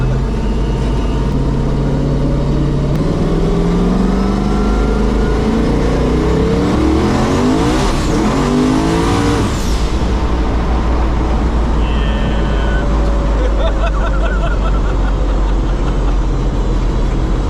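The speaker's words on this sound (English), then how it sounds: "Once the turbos light up, it's pretty rowdy." A 1500hp twin-turbo Chevrolet S10 engine revs hard and loud, its pitch sweeping up and down through several climbs in a rowdy, close run with faint chatter underneath.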